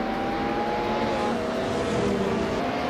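A 1996 Porsche race car engine in a racing video game drones steadily and loudly throughout, holding a sustained high-revving tone with no talk over it.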